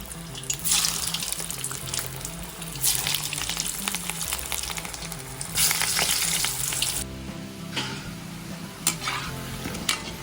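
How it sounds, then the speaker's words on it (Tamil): Lentil balls deep-frying in hot oil in a pan, a loud bubbling sizzle that swells and settles in waves, close and steady, with occasional spoon clinks. "எண்ணெய் காஞ்ச பிறகு உருண்டையை பொரிச்சிடணும்"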